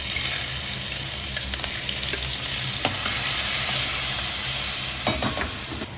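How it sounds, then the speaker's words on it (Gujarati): Spices for tadka crackle and sizzle loudly and continuously in hot oil in a home kitchen while making dosa, sambar and chutney, with occasional sharp pops and ladle scrapes. "તો જો 2 વઘાર મુકાઈ ગયા છે કરવાના."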